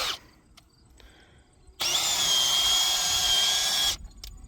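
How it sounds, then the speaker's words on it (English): A power drill fitted with a coring probe whirs loudly and steadily for about two seconds as it takes a core sample from a hay bale, starting and stopping abruptly, with quiet background noise before and after. "There's a probe on the drill, and it takes a core sample out of the bale."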